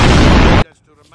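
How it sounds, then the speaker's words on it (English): A dynamite blast in a Tintin video game, one loud sudden boom filling the first half-second and then cutting off abruptly into near silence. "Oh, shit, is that dynamite?"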